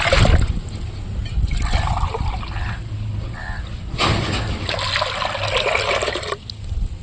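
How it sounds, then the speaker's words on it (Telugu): Water splashes and trickles into a cooking pot holding rice for village-style Rayalaseema ragi sangati, coming in several bursts close by while a person talks. "దీంతో 2 సొమ్ములు నీళ్ళు అయితే పోస్తాను."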